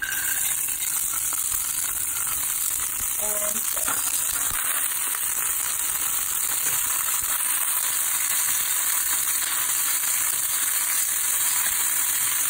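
Peas fry in a hot pan with a continuous bright sizzle and crackle, a brief clatter of stirring early on, steady and fairly close throughout.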